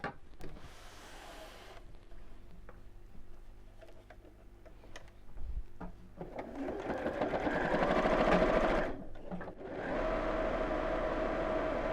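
A sewing machine top stitching along each side of a large tie tote, running in several bursts of rapid ticking stitches, loud and close, with brief pauses between runs.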